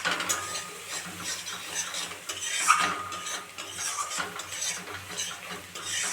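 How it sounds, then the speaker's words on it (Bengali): Spices being stirred in a pan for a chicken curry, a run of rhythmic scraping and clicking strokes of a utensil against metal over a low sizzle, close and steady, with no voices. "মশলাটাকে আমি ভালো করে নেড়ে নেব"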